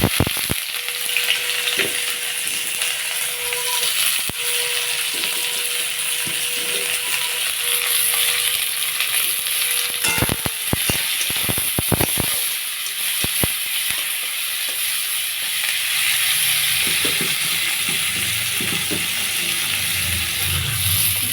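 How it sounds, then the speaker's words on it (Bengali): Chopped onions go into hot oil in a pan just used for frying crabs, setting off a loud, continuous sizzle and hiss with sharp stirring clatters scattered through it. "এখন আবার তেল দিয়েছি গরম হয়ে গেছে এবার কেটে রাখা পেঁয়াজগুলো দেবো"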